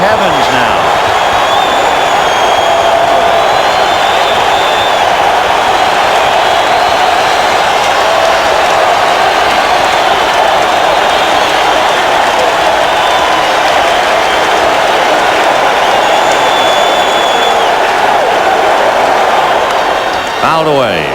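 A packed Shea Stadium crowd roaring during Game 7 of the 1986 World Series between the Mets and Red Sox, a loud, unbroken wall of cheering with a voice talking over it.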